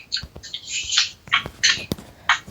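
Bird in a video game squawking in several short harsh calls with brief clicks between them, close and fairly loud.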